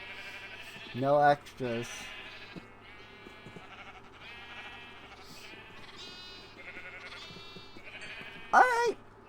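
Sheep bleat in a pen in the video game Township Tales, with a couple of loud nearby bleats near the start and another near the end, over steady game ambience while a person talks throughout.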